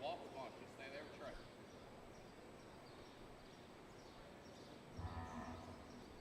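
Cattle mooing at a livestock show during a red female cattle show, a faint low call in a busy hall with people talking nearby.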